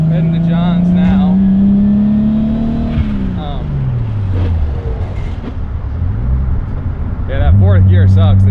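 A turbocharged BMW E30 convertible drives with the top down. The engine drones and rises through the gears, with turbo whistle and wind noise, and a voice can be heard over it.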